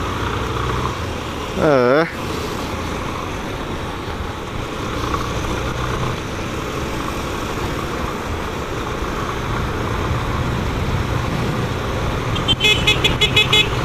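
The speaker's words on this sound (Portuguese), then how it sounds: "olhando os carros passar" Steady street traffic rumbles past close by, with a car horn sounding briefly early on and a short beeping later, while a person speaks in a single word.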